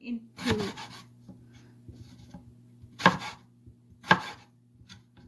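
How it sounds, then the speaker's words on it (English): A knife chops potatoes into fries on a cutting board for pakora fritters, giving a few crisp, separate thuds with gaps between them, close and fairly quiet, at a Pakistani cuisine cooking competition. "I'm just gonna cut up the potatoes"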